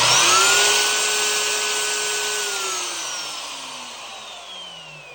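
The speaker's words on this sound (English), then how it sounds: "When you power this router on, it does start smoothly." A SKIL router switched on and run up to its maximum of 25,000 RPM gives a loud, steady high-pitched whine with rising tonal harmonics, holding near, then slowly fading and dropping in pitch as it winds down.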